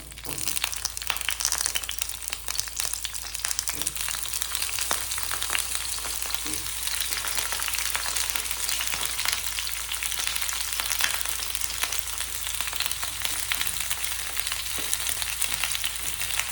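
Eggplant frying in hot ghee on a griddle for badane huli, a continuous close crackling sizzle with dense popping that stays loud and steady for the whole stretch, no talking.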